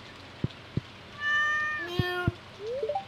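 A cat in the Stardew Valley video game meows in a few short, clear calls, set against a quiet rain-like patter with small clicking game sounds around them.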